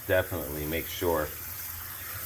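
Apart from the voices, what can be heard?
running cold water from kitchen tap over cooked pasta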